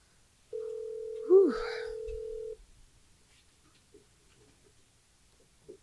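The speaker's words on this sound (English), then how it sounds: "Let me phone my best friend." A single outgoing phone-call ring tone, one steady two-second electronic tone heard close and clear, with a brief voice over it, then near silence.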